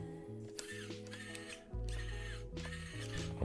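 RGT EX 86190 RC crawler's steering servo working back and forth, a close, buzzy whirring that starts and stops in short bursts with slight pitch shifts, repeating several times.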